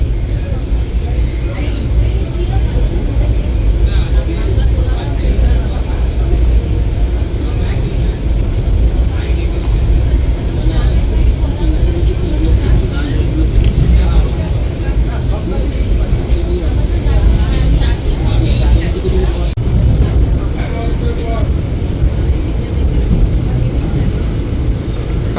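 Steady rumble and rattle of the 13187 Maa Tara Express from Sealdah to Tarapith Road, heard from inside an AC chair car: a loud, continuous low drone with faint clatter running throughout.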